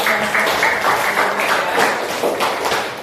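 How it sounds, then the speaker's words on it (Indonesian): A classroom audience during a teaching-practice lesson on traditional markets gives a short burst of dense, continuous applause, moderately loud and close, with a little background murmur mixed in. "Tepuk tangan buat"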